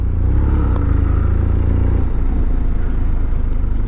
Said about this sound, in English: I'll change gear on the straight.